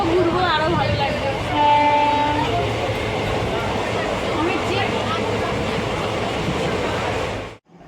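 A moving passenger train bound for Puri, with continuous loud rumble and rattling of the carriage, a sustained horn blast early on, and people talking over the noise.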